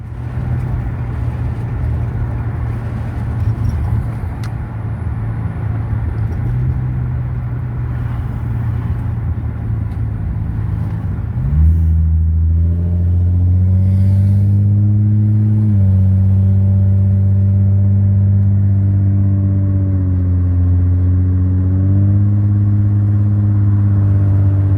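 A car with a repaired speed sensor fault idles and then accelerates on a test drive, its engine droning steadily before rising in pitch and loudness as it revs through several gear changes.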